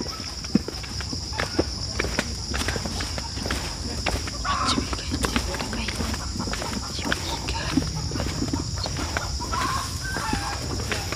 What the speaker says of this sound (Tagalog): nabulabog ang mga manok